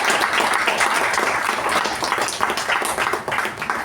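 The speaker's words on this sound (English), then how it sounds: "So I think we have to give the entire executive committee a thunderous round of applause" An audience at a Toastmasters installation ceremony claps for the executive committee in a dense, sustained round of applause that fills the room and holds steady before tapering slightly.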